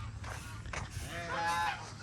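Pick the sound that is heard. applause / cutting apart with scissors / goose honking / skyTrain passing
goose honking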